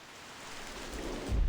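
Steady rain falls in a game scene from Reverse 1999, a dense, even hiss of drops on the ground near a crater puddle that swells louder at the end with a deep low rumble.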